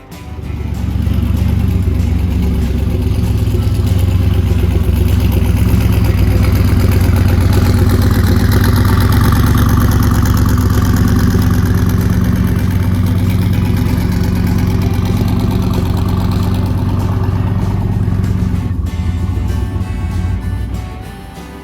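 A Falcon drag race car sits in a shop and idles to warm its oil, a loud, deep, continuous engine rumble that holds steady throughout with a slight rise in the middle and no talking.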